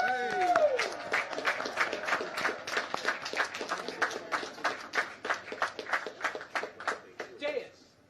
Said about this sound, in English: Class of 2020, one more time, round of applause.